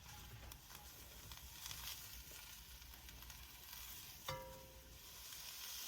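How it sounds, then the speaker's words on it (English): Steady, soft sizzling of leeks cooking in a pot, a continuous gentle crackle with a brief clink partway through; no talking. "these are just starting to sizzle a little bit"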